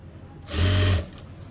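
A sewing machine stitching a simple suit gives one short, close whirring run of about half a second with faint room noise before and after.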